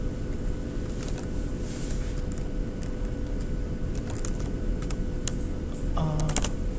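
Steady keystrokes on a computer keyboard while entering values into a spreadsheet, a close, continuous patter of clicks with a few sharper taps, and no one speaking.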